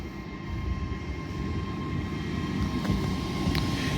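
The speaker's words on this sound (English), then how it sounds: "Departing now is your delayed 11:25 Hull Trains Paragon service from Hull to London King's Cross" Hull Trains Paragon service bound from Hull to London King's Cross pulls out of Doncaster station, a steady broad rumble building slightly as it departs, with a faint high whine and a couple of brief squeaks riding on top.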